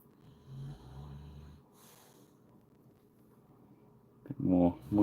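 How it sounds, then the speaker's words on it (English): A dog snores nearby during a painting session, giving a few soft, low rumbling breaths early on, followed by a louder snort-like burst near the end. "Make sure the dog's not snoring and putting you off."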